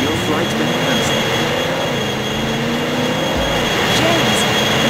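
A jet airplane's engines whine and roar steadily in the 007 Racing video game, a loud sustained drone with subtle rising and falling tones.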